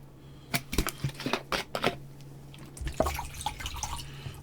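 Water poured or dripping during an online blitz chess session, a cluster of sharp splashy drips and trickles near the mic, then a softer scattered patter over a faint low hum.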